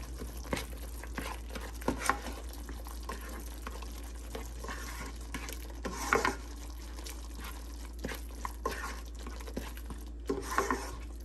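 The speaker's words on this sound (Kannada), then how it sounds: "ಸೊ ಇದೆಲ್ಲ ಚೆನ್ನಾಗಿ ಒಂದು ಮಿಕ್ಸ್ ಕೊಡೋಣ." Chicken being stirred in a pan with cumin powder and salt, giving repeated scraping and sizzling pulses close by at an uneven rhythm, with no talk.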